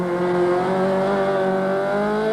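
A 1988 Toyota Conquest RSI 1600 rally car, a 1600 cc twin-cam four-valve engine, races on a rally stage, its engine holding a loud, steady, high-revving drone throughout.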